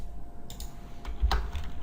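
Typing on a computer keyboard, a few scattered keystrokes and clicks at close range, irregular and fairly quiet over a low steady hum.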